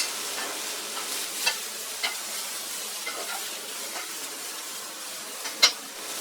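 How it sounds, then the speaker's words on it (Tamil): Broad beans stir-fry in a pan over a high flame, a bright steady sizzle punctuated by crisp ladle scrapes and taps, one louder clack near the end. "அவரைக்காய் சேர்த்துட்டு ஹை ஃப்ளேமில் வச்சு 1 நிமிஷத்துக்கு நல்லா இந்த மாதிரி கிண்டி விட்டு அப்புறம் இறக்கிடலாம்"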